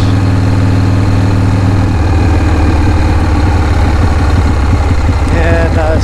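1980 Harley-Davidson FXEF Shovelhead V-twin idling, a loud, close, loping low rumble with uneven pulses that steadies into a choppy beat, with a faint voice briefly underneath.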